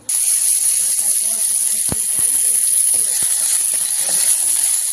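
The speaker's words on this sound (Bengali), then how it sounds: "সিমের বীজগুলো এর মধ্যে দিয়ে দেবো।" Flat bean seeds frying in hot oil in a pan, a steady close hiss and sizzle that runs the whole time with a few sharp pops and crackles breaking through.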